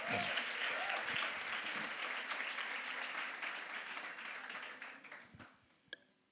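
A Pentecostal church congregation applauds in a dense, sustained wash of clapping that carries on for several seconds, tapers off near the end and finishes with one last sharp clap.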